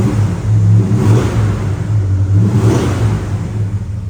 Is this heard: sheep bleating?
no